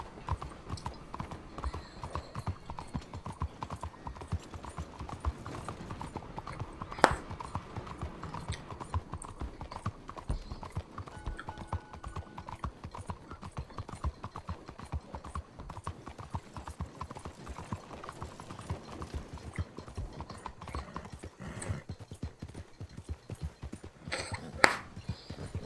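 Horse hooves clip-clop steadily and continuously in the Red Dead Redemption 2 video game, a brisk rhythmic gait at moderate volume with only faint occasional voice.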